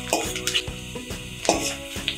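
Chopped onions with salt sautéing in a pan for pachai rasam: a rhythmic run of spoon strokes scraping and clinking against the metal over a light sizzle, close by.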